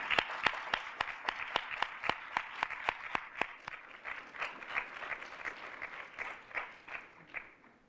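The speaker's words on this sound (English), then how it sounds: "join me in giving them a round of applause" Audience at a bioethics health research conference in Africa claps for program alumni: a burst of sharp individual claps at the start thinning into a steadier, softer patter of applause that tapers over several seconds.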